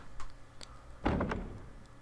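Door opening in Resident Evil HD Remaster: a solid thunk followed by a short creaking swing and a settling knock, fairly close and alone over a quiet game backdrop.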